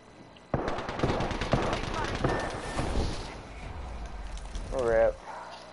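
Rapid automatic gunfire crackles in bursts during an Apex Legends firefight, loud and dense at first, then thinning out, with a voice talking over the shots.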